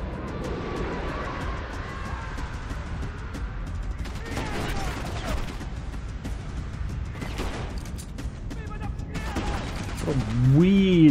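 Bursts of gunfire from the Rogue Warrior video game crackle in scattered volleys over a low background rumble, mixed with game sound effects and a rising synthetic tone near the end.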